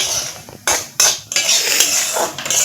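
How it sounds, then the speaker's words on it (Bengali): Dry semolina is roasted and stirred continuously in a pan, the spoon scraping and clinking against the metal in loud, uneven strokes with a few sharp knocks, no talk. "এভাবে অনবরত নাড়াচাড়া করে সুজিটা ভেজে নিতে হবে"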